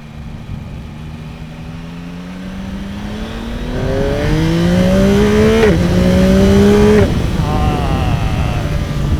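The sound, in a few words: motorcycle accelerating through gears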